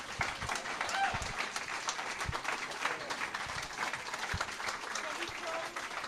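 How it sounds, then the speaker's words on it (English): A meeting audience at a recovery group's Big Book study weekend claps in a mid-sized room. The applause is moderately loud and steady for several seconds, with scattered individual claps and faint crowd murmur. "I want you to give yourselves one big round of applause"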